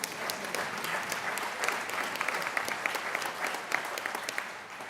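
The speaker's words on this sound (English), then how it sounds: "Give them applause" A crowd at a college commencement ceremony applauds, with a continuous wash of many hands clapping at moderate distance and no pauses.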